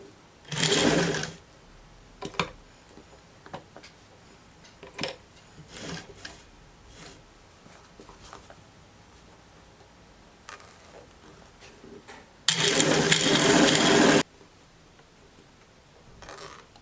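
A sewing machine stitches a skirt seam in several short bursts and one longer run of steady whirring. Soft handling noises fall between the bursts, and no one speaks.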